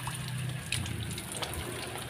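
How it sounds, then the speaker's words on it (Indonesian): Water poured over a newly planted rose apple tree in a shaded spot, a steady close splashing and trickling stream with no talking. "lalu siram sampai full"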